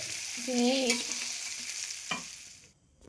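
Oil crackles and sizzles steadily as fish fries in a pan, with a brief scrape partway through before the sound cuts off.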